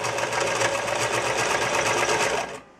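Sewing machine stitching back and forth across a fabric stuff sack for a sleeping bag, a fast even mechanical chatter up close that stops abruptly near the end.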